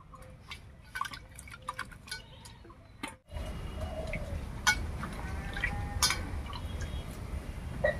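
Bitter gourds are being washed in water in a home kitchen, with soft trickles, light drips and small splashes running steadily, louder after a brief pause, with no one talking.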